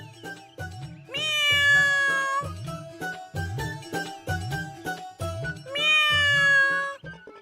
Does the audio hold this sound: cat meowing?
yes